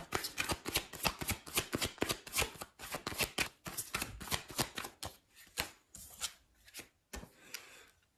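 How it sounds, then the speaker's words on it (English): Tarot cards are shuffled and drawn by hand, heard as close, quick riffling and sliding bursts in uneven rhythm, followed by a few sharper single snaps as cards are pulled. "Let's get another card here."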